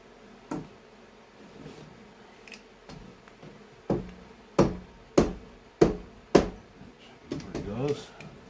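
Scissors snipping in a series of sharp, close cuts, sparse at first then a quicker run of several crisp snips, with faint handling noise between.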